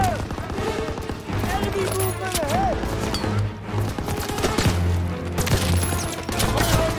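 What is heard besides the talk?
machine gun fire in video game Call of Duty WW2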